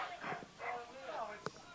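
A voice imitating dog barking over the public address at a youth football game, Sharon vs Plymouth: a quick run of yelping, whimpering barks, moderately loud and slightly echoey.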